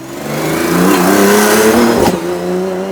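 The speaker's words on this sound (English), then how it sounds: "Makes a lot of noise for a long time as it does a very slow drive-by" A loud BMW E30 with an M20 2.9-litre stroker engine on open intake stacks has a rough, raspy intake note and revs and rises in pitch as it passes slowly nearby, then fades a little.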